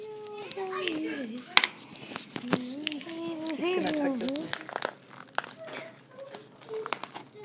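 Cardboard and plastic packaging being torn and crinkled open on a dollar store craft box, sharp crackles and rips scattered between a voice talking and sing-song babbling up close.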